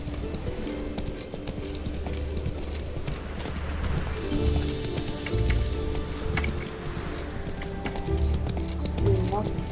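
Rhythmic clip-clop of horse hooves at a steady trot in The Witcher 3: Wild Hunt, close and continuous, under background game noise and a speaking voice.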